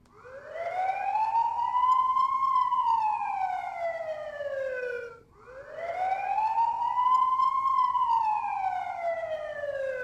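An electronic siren from a mini RC car's Meus Micro sound module wails up and falls slowly, two long identical sweeps in a row, loud and clear with no voices.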